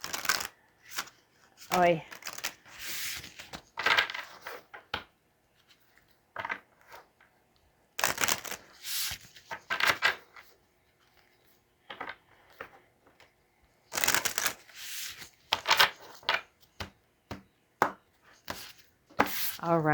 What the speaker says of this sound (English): I do like to shuffle on camera just so that you guys can see that they are shuffled.